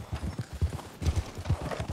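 Horse hooves walking over snowy ground in the Red Dead Redemption 2 video game, a soft, quiet, steady clip-clop close by.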